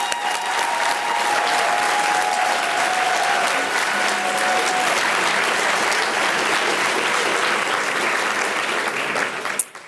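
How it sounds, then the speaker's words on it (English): A large audience at a graduation ceremony applauds steadily for about ten seconds, a dense, even wash of clapping that cuts off sharply at the end. "Let's give all of our graduates a round of applause."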